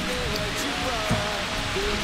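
Steady rain falling near the Jatobá waterfall in Mato Grosso, Brazil, a dense continuous hiss with a faint tonal hum underneath, no speech.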